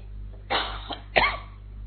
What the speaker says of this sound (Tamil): அதான் இருமல் வருது.